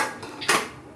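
A kadhai (wok) being pulled out from among stacked pots and pans in a home kitchen, giving a short metallic clatter and clang, close and fairly loud, with softer scraping just before.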